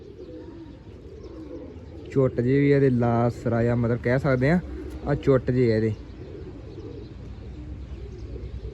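Pigeons in a breeder's loft coo in a low, steady murmur throughout, while someone talks over them for several seconds in the middle.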